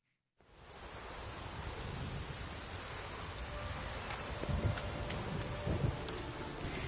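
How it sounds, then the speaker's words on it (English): Rain and wind in the video game Witcher 3: a dense, continuous hiss of rainfall fades in and holds steady, with a few soft low rumbles rising through it. "It's the rain and the wind and how it interacts with the environment"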